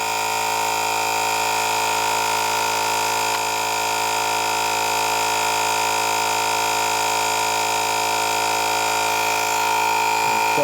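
2024 jfegwo portable tire inflator air compressor running. A steady, unbroken motor whine and hum holds at a constant pitch and loudness throughout, with no voices.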